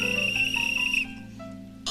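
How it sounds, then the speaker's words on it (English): A whistle blown in a steady, bright tone for about a second before cutting off, close and alone, followed by quiet room tone and a brief burst of noise at the end. "You blow a whistle,"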